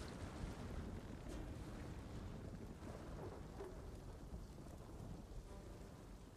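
Steady, dense rain with low rumbling thunder in a stormy scene from the video game Ghost of Tsushima, a constant wash of noise throughout with no speech over it.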